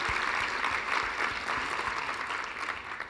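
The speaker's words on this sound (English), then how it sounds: "Please join me in giving them a round of applause" An audience at a debate event applauds the debaters, a dense, steady wash of clapping hands that fills the whole stretch at fairly even loudness, fading very slightly at the end.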